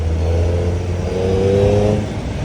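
A 2025 Suzuki Hayabusa with its stock exhaust revs in a city, a loud, close, continuous engine drone that rises and falls slightly with throttle, heard alone without talk.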